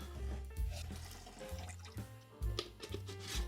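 Pickle brine pouring out of a jar, a gurgling, splashing liquid stream close at hand that surges in a few uneven glugs over a few seconds.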